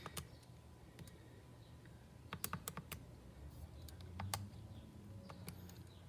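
Quiet keyboard typing, scattered clicks of keys in short irregular bursts, close but soft, with no voices.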